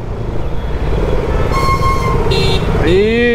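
Busy city road traffic with cars and motorcycles passing at a large signal, a continuous engine rumble with a horn-like tone near the end, while people talk over it.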